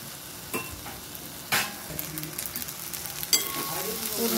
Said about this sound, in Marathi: तर आता मी शिजवलेला पास्ता याच्यात टाकणार आहे.